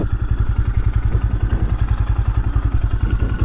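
A 2024 Honda Grom motorcycle idles nearby with a steady, loping low-pitched thump, its exhaust pulses evenly repeating and slightly clattery, with no talking.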